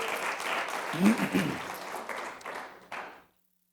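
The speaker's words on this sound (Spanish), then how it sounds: "démosle un fuerte aplauso al Señor, fuerte, fuerte" A church congregation applauds, a fairly brief burst of clapping mixed with voices that swells around the middle and fades out by the end.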